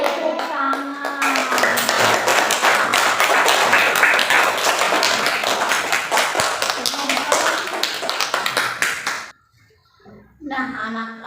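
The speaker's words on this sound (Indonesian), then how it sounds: "Tepuk tangan." Children in a classroom clap rapidly and enthusiastically in a dense burst of hand claps lasting several seconds, ending abruptly, followed by a voice speaking.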